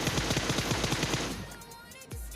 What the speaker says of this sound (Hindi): अब सामने से कुछ फायर आ रहा था